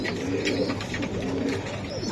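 Racer pigeons at a seller's loft coo softly and steadily up close, several low throaty calls overlapping in a short stretch with no talk.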